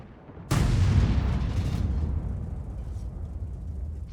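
A single loud, close boom from an artillery gun firing in World of Tanks, likely the Lorraine 155 50, with a sharp onset and a long rumbling decay that fades over several seconds.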